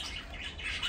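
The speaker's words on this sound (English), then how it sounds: "So, these are different breeds. These are called finch. They're really small as well." Pet finches, a small caged bird species, chirping in a home, with faint high tweets over steady background hiss.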